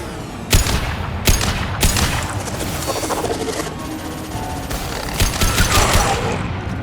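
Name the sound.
weapons firing in the video game Mass Effect 2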